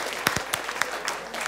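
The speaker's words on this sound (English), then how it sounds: "Round of applause for Jules." Sparse audience clapping, a few sharp individual claps scattered over a second and a half.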